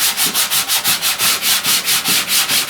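Rhythmic back-and-forth rasping of 80-grit sandpaper on body filler on the inner door panel of a 1969 Chevrolet C10, loud and close, with steady even strokes of about four per second and no talking.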